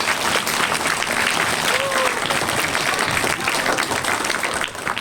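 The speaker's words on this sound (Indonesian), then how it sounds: "itu lah tepuk tangan ibu" A crowd of parents and teachers at a school Minangkabau cultural event claps steadily, a dense, loud wash of applause lasting throughout with voices mixed in.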